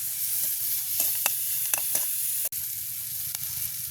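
Squid frying in a little oil in a pan gives a steady, close sizzle, broken by occasional stirring scrapes and one sharp clack of a utensil.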